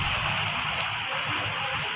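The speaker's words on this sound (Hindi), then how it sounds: "देखो कितना जोर की बारिश आ रही है।" Heavy monsoon rain pours down in a village, a loud, dense, unbroken hiss of water that stays steady throughout without voices.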